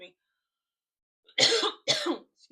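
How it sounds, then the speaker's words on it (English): Two separate harsh coughs from a person nearby, each a short loud burst about half a second apart, following a moment of silence. "Excuse me. Coughing."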